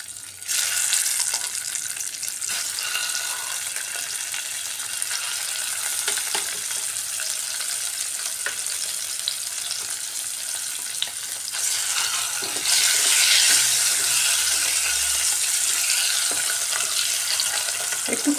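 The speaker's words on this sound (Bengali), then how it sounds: "এখানে নুন হলুদ মাখিয়ে রাখা ডিমগুলো দিয়ে দিচ্ছি এক এক করে তেলের মধ্যে।" Eggs coated in salt and turmeric frying in hot oil for an egg kosa, a steady loud sizzle running throughout that swells brighter near the end, with faint clinks and no talking.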